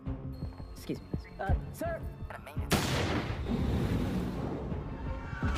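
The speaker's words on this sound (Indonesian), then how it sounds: "menyaksikan ledakan itu terjadi dari kejauhan" A sudden loud blast erupts after a stretch of voices and sounds, followed by a long rumbling roar that slowly fades.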